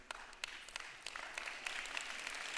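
Audience applause at a church talk: faint, scattered claps that thicken into steadier clapping toward the end, heard at a distance.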